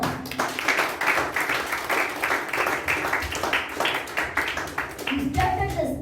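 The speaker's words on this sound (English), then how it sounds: "Let's give her a round of applause." Clapping follows a speech at a speaking event. Many hands beat in a strong, rhythmic pattern for several seconds, loud and close, and a voice comes in near the end.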